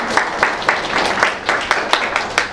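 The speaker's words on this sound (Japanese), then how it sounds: "ちょっと拍手をお願いしますね。" An audience at a meeting claps in a modest, fairly rhythmic round of applause, with individual claps standing out at a steady pace and no voices over it.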